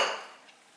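A metal frying pan of potatoes is handled on the stove, giving a single bright clank that quickly fades into a soft ringing decay, close and alone.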